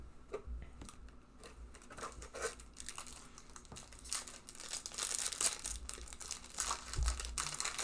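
Trading card pack wrappers from a Pokémon Cosmic Eclipse box are crumpled and stuffed into a trash bag, giving soft, irregular crinkling and rustling bursts at close range with no talk.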